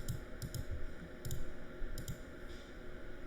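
Mouse clicks on a buy button, a handful of short, quiet, separate clicks spaced irregularly across a steady low background hum.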